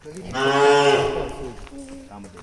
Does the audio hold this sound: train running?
no